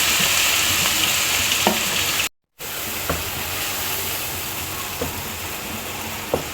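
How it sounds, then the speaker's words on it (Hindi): Finely chopped onions fry in ghee for dhaba-style butter chicken, giving a steady, close hiss of sizzling with a few soft stirring clicks and one brief dropout partway through. "प्याज को हमने लाइट ब्राउन करना है।"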